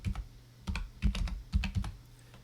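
Fingers type on a computer keyboard in short bursts of soft, close key clacks, separated by brief pauses, with no talking.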